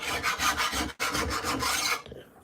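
A hand file rasps across the edge of a chainsaw bar fitted with a 28-inch Oregon PowerCut chain during saw servicing in a shed: loud, close, steady strokes with a brief break near the middle, then fading out.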